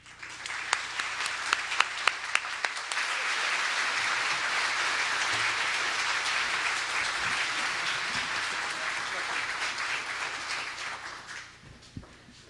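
An audience at a Windsor Chamber of Commerce mayoral debate applauds as the candidates take the stage, starting with a few sharp claps, swelling into a long, dense wash of clapping, then fading near the end.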